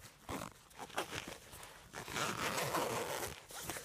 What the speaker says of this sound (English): If you unzip it, you can put your cords and stuff inside this little soft pouch.